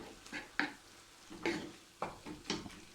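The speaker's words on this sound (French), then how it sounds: "on va mélanger rapidement" A spoon stirs a ground beef mixture with ketchup in a pan, several distinct scraping strokes in an uneven rhythm over a soft sizzle, close and fairly quiet.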